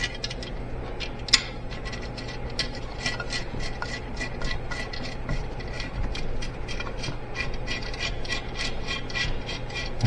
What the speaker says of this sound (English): so let's put the nut on